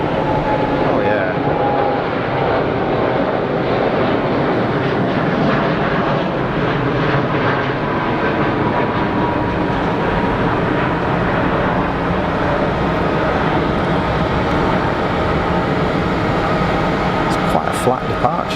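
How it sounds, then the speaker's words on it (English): Airliner climbing out on a flat departure from Geneva Airport, a steady broad jet roar filling the whole span at close range, with people talking over it. "It's quite a flat departure, that."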